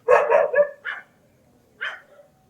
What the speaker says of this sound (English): along the ghats, the dogs have cooperated a lot with their loud barking